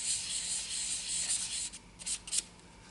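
Fine 600-grit paper, pressed by a finger, rubs gently over a briar pipe stummel with a soft, continuous hiss that breaks into a few short strokes near the end.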